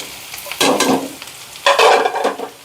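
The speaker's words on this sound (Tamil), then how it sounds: "அதையும் சேர்த்து சும்மா ரெண்டு நிமிஷம் வதக்கினா போதுங்க" Radish pieces being stirred and sautéed with onions in a pan, two bursts of sizzling and scraping stirs separated by a quieter pause, close and fairly loud.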